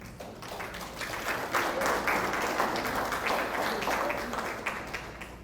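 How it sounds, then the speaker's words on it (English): An audience applauds at a lecture on Aquinas after mention of G.K. Chesterton, many hands clapping in a sustained, fairly loud burst that swells and lingers without talk. "Yes, I clapped for Chesterton too."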